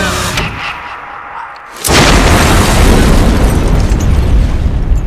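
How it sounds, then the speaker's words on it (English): A shotgun blast in the horror film Terrifier 2 lands as a sudden, loud, booming burst after a quieter stretch, followed by sustained dense noise from the film soundtrack. "Oh my god, a shotgun!"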